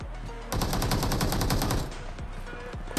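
Rapid automatic gunfire in the mobile battle royale game BGMI, a loud sustained burst lasting over a second after a quiet start, followed by a few scattered single shots.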